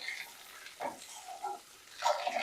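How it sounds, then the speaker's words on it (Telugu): Eggs frying slowly in a pan over a low flame, a soft intermittent sizzle with a few louder spitting bursts near the end, close but quiet, no talking. "చక్కగా ఈ ఎగ్స్ని ఫ్లేమ్ అనేది సిమ్లో ఉంచి ఫ్రై చేసుకోండి"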